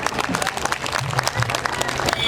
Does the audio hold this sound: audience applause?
yes